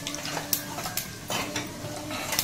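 A tempering of seeds and lentils in mixed oil and ghee sizzling in a pan, a soft steady fry broken by a few sharp spoon-against-pan clinks and stirring scrapes, close by with no talk.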